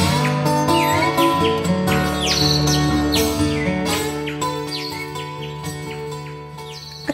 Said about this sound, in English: It's just delightful to hear so many house sparrows together, chattering away.